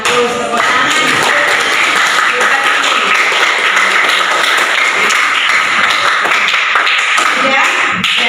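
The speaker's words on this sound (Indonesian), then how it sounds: "Tepuk tangan." A classroom of students breaks into loud, sustained applause, dense clapping that fills the whole stretch close by, with a few voices mixed in.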